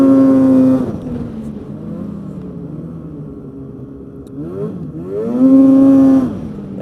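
Polaris Pro S 800 snowmobile with a short track, revving hard and loud at the start, its engine dropping to a lower rumble in the middle, then surging high again near the end, close by.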